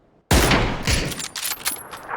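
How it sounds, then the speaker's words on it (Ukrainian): Gunfire in the battle-royale shooter PUBG: a sudden loud burst of shots erupts after a brief quiet start, followed by a rapid, ragged string of further shots that fades and flares through the rest of the clip. "Давай стріляй по."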